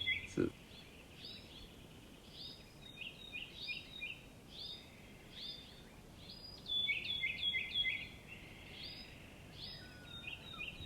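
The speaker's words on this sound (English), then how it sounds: "Let's put some bird noises." Repeated high chirping bird calls in short bursts over a steady soft background hiss, fairly faint and continuing throughout.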